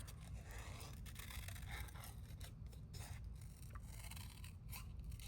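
Scissors fussy cut around the edge of a slightly torn paper piece, a close, continuous stream of small snipping and scraping strokes with no talking.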